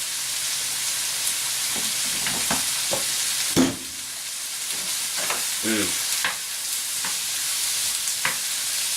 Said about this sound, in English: Just give this a nice little stir, get all these seasonings incorporated.